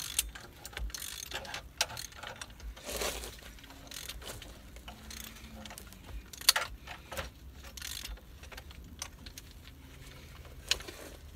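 A ratchet strap being cranked tight beside a manufactured home, with repeated soft clicking ratchet strokes at a moderate distance, fairly faint over low background noise.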